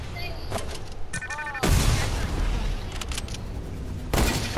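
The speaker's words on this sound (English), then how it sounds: "I just got shot from both ways" Gunfire in the video game Fortnite, a few sharp shots and bursts scattered through the clip with louder volleys near the middle and end, over game noise.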